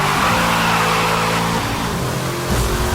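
Car drifting in Need for Speed: Hot Pursuit 2010, a steady loud engine roar with tire squeal as the car holds speed through a slide, its engine note shifting near the end.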